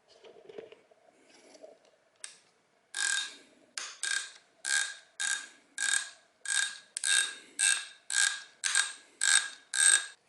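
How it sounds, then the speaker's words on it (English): A Snap-On ratchet with a flexible head and 10 mm socket loosens a bolt on a 2021 Aprilia Tuono V4 Factory. About a dozen loud, even bursts of ratchet clicking repeat steadily, close up, after a brief quieter rustle. "Having a little snap-on tool with a kind of like a flexible head and then a 10 millimeter socket, and that should do the trick"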